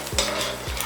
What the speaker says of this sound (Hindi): उसके बाद हम लोग इसमें ऐड करेंगे थोड़ा सा finally chopped garlic and ginger. इसको सॉटे करना है